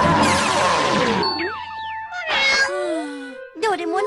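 A cartoon cat in a Hindi-dubbed Doraemon episode gives several wavering, sliding meows and cries, loud and close, with a burst of noisy clatter at the start.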